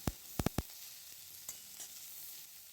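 Fried peanuts land in a pan of methi greens with a few quick, sharp clacks, followed by a faint, steady sizzle and light stirring.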